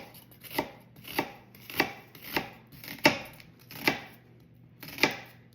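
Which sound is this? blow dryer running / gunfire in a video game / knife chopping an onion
knife chopping an onion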